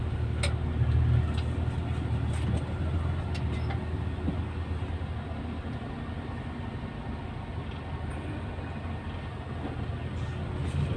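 Heavy, slow road traffic beside a road construction area, a constant rumble of car, bus and truck engines close by with occasional sharper clanks and rattles, no talk over it.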